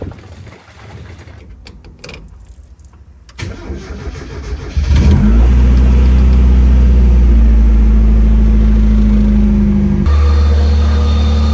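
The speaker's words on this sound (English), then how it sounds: "we will start the car up and let it warm up" A race car engine cranks and catches, then settles into a loud, steady, rough idle close by with slight revving, following quieter mechanical rustling in a garage.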